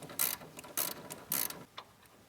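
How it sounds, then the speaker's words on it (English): A ratchet wrench ratchets on a nut during a seat install on a John Deere 1025R subcompact tractor, giving four quick, quiet bursts of clicking with short pauses between them. "I'm able to keep your ratchet ratcheting"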